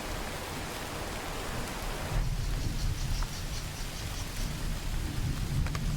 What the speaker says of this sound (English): Now the rain won't stop for days.